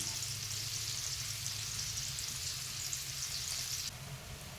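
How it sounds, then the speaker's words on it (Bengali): Onions sizzle steadily in hot oil left over from frying potatoes for a chicken curry, a dense continuous crackle close by that drops slightly near the end with no voices. "ওই একই তেলে দিয়ে দিচ্ছি পেঁয়াজ"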